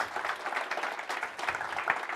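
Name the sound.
applause from audience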